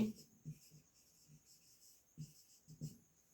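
A pen scratches across paper while a math problem is worked out, with faint, intermittent strokes in short bursts and pauses in a quiet room.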